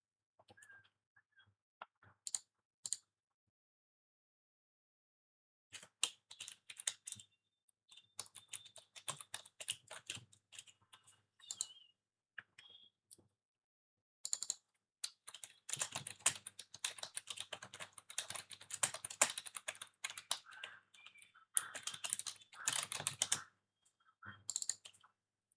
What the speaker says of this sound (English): like I'm typing